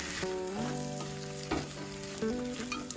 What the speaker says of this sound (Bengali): পটলটা দিয়েও এর সাথে কষিয়ে নেবো একটু